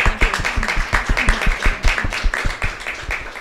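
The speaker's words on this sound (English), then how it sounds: "I want to give them applause." Audience applause at a gallery art event: dense, steady clapping from a crowd of many hands, loud and close, sustained throughout without talk.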